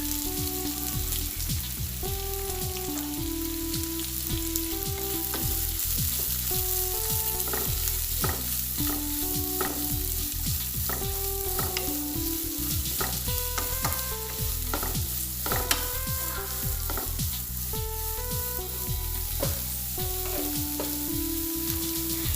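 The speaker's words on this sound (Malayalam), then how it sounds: "എന്നിട്ട് നമുക്കിത് നന്നായിട്ടൊന്ന് വഴറ്റിയെടുക്കാം" Sliced onion sautéing in a pan as a wheat flour snack is made: a steady, dense sizzle continuing throughout, punctuated by frequent light clicks and scrapes of stirring.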